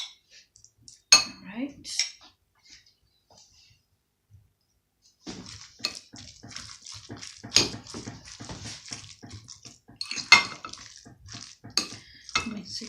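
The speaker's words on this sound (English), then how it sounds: "So let's mix all that together." A utensil scrapes and clinks against a bowl as tuna sandwich filling with pepper flakes is mixed, with irregular bursts of stirring and tapping after a brief pause; a voice speaks briefly.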